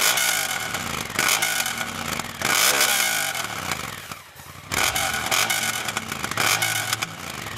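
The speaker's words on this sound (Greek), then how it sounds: "σε σχέση με την νέα εξάτμιση που είναι πιο κοντή και πιο μπασαριστή, μας χαρίζουν ένα πιο καθαρόαιμο εντουράδικο ήχο" A Honda Africa Twin's engine is heard through its new shorter, bassier exhaust, loud and close, revving up and easing off in repeated surges with a brief dip near the middle.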